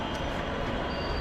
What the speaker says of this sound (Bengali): আজকে আমরা প্রথম ট্রেনে উঠতেছি।